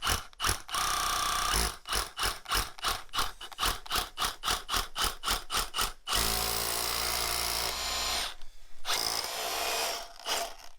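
A power drill whirs in rapid short bursts during a home network installation, trigger pulsing on and off repeatedly, then runs in a longer continuous grinding stretch before stopping briefly and restarting.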